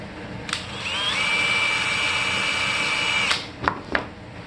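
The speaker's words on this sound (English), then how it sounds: "I don't drill all the way through because I don't want to blow out the back side" A drill whines steadily at high pitch for about two seconds boring a hole partway into a model aircraft part, then winds down, followed by a couple of sharp knocks.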